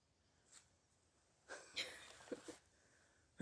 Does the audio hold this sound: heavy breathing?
yes